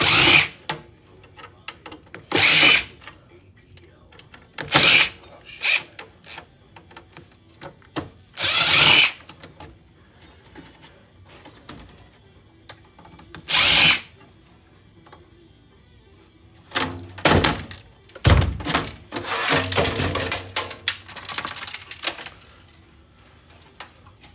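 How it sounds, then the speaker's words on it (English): A power drill backs screws out of a desktop PC case being scrapped for precious metals, short loud whirring bursts separated by pauses, then a busier cluster of drilling and rattling near the end. "So now we're going to go ahead and take the rest of these screws off of here."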